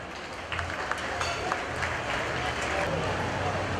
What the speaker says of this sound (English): Let's all give our judge a round of applause.